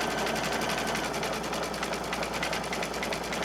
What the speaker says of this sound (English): it's doing one more stitching